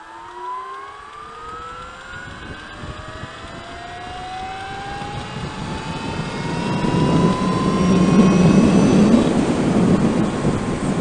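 Zener-Ecite 2020 all-electric project trike accelerating at full throttle in fourth gear up to about 70 mph, a rising whine climbing steadily in pitch over a growing rush of wind and road noise that peaks loudly near the end.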